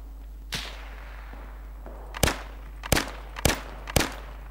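Five sharp, isolated gunshots in the WWII video game Iron Front, each a loud crack with a short tail, spaced roughly a second apart after an earlier fainter shot, over a steady low hum.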